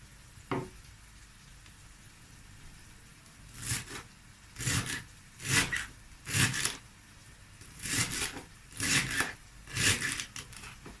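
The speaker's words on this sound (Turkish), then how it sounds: "Şimdi maydanozumun saplarını böyle şöyle ince ince çok ince olacak şekilde doğrayacağım." A knife finely chopping parsley stems on a cutting board in a home kitchen, heard as a run of evenly spaced, close scraping chops after a single early knock, with no talking.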